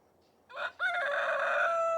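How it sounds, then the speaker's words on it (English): A rooster at an off-grid chicken coop gives one loud, close crow: a short opening note, a brief break, then a long sustained call held to the end. "Ooh, that's a big boy crow."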